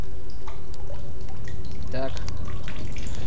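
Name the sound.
drinking water in the video game The Solus Project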